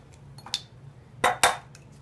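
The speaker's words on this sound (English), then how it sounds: "So we're going to take 2 eggs. We're going to crack those in there." Two eggs are cracked into a bowl: light taps followed by two sharp, close cracking knocks against the rim in quick succession.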